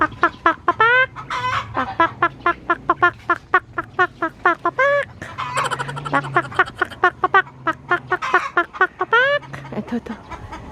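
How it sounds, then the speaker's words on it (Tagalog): Chickens at a rural provincial house in the Philippines cluck loudly and rapidly in dense repeated bursts, close by, with a few brief pauses and a low background hum. "Ang ingay ng manok."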